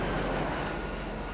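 An airplane arrives in the strategy video game Alpha Centauri, heard as a steady, loud engine roar that fills the whole moment without a break.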